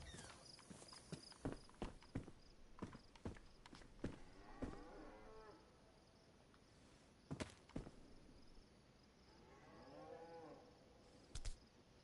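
Cows moo in a video game, two drawn-out lowing calls rising over a quiet background of soft clicks and footstep-like taps.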